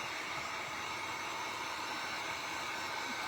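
A hair dryer blows steadily and loudly throughout, drying Mod Podge sealant brushed over a painting, a constant broadband whoosh with no talk.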